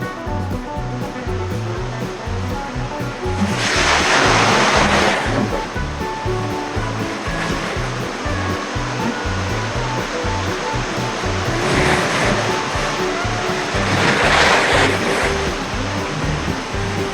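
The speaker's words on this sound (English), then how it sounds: "can we head towards the waterfall?" A waterfall at Redwood Creek in Disney California Adventure roars in a constant, loud rush of falling water, swelling a little in bursts, with no voices.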